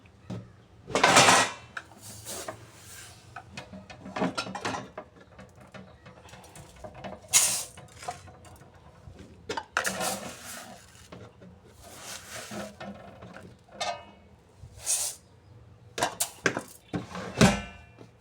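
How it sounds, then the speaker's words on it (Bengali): Raw rice being mixed by hand in a metal pot before cooking khichuri, giving intermittent scraping, rattling and clinking bursts with quiet gaps, close and moderately loud. "চাউল মেখে নেব এখন"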